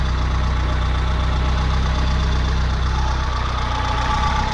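A VW Polo Mk2 engine idles steadily at close range, a low continuous rumble with an even, slightly knocking pulse and no voices.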